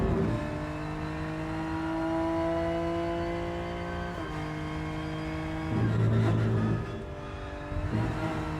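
A BMW race car engine in the racing video game Rennsport hums at steady pitch, then shifts through gears with brief drops and climbs, a smooth synthetic-sounding drone with no voices.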